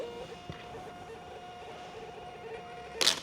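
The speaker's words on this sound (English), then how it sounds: "We're using a thermal label printer in the 4" by 6"" A 4 by 6 inch thermal label printer feeding out a shipping label for an Australia Post parcel, a steady mechanical whir with a faint tone running through it and a short clack at the end, close by with no talk.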